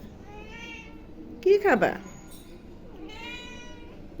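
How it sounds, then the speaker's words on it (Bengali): A hungry cat gives one short, loud meow in the middle, with a person speaking softly before and after it. "ম্যাও ম্যাও ম্যাও মা ম্যা"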